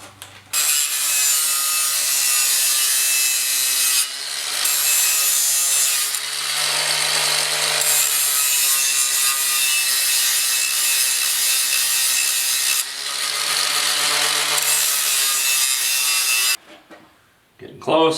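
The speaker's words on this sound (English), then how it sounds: "I've got a stud coming out of the intake manifold, so I just need to grind a little bit of that off" Grinding a stud protruding from an Edelbrock intake manifold on a 454 engine, a loud continuous abrasive whine in long bursts with brief pauses between passes.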